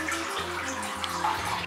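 Water sloshes and trickles as a woolen jacket is rinsed in clean water at home, a close, continuous splashing with a low rhythmic hum beneath it.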